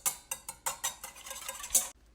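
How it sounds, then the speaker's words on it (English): Eggs whisked in a bowl for peanut butter baking, a quick series of close, sharp clinking strokes against the bowl, several bursts in an uneven rhythm before it stops. "we're going to whisk it up"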